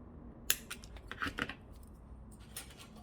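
Scissors snip through crepe paper for a paper lotus lantern, a few short crisp cuts close up with quiet gaps between them.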